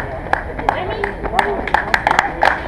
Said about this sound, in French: Applaudissements pour Marc.